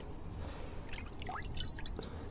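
Water drips and trickles from a car wash mitt during a rinseless wash with Infinity Wax Zero Water, a few soft, close splashes over a low steady background.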